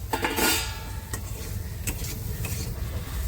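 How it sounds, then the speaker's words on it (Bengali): Fried potatoes go into a pan of cooked-down spices in a home kitchen, with clattering utensil scrapes and metal knocks against the pan over a soft, steady sizzle. "ভেজে রাখা আলুটা দিয়ে দিলাম"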